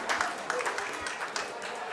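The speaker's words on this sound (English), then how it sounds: "Another big round of applause for grade 7" Audience applause for grade 7 at an Islamic center gathering: scattered clapping from a room of people, moderately loud with overlapping claps and some voices.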